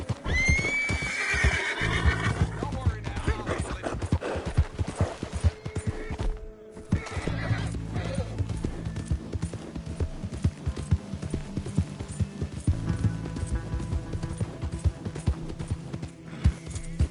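In the video game Red Dead Redemption 2, a horse gallops with rapid, rhythmic hoofbeats and neighs and whinnies loudly near the start, over a continuous game soundscape.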